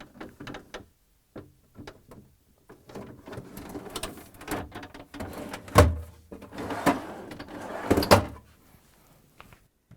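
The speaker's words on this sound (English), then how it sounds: "So the door goes back on." An LG/Kenmore refrigerator door is lowered back onto its hinges, with a series of close clicks, knocks and two sharper thuds amid quieter handling noises.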